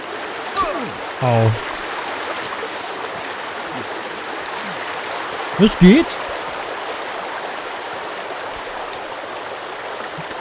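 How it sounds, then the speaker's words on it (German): A waterfall in the video game Sons of the Forest keeps up a steady, broad rushing wash throughout, with a voice talking and short shouts and thuds over it. "Und wir hören einen Wasserfall."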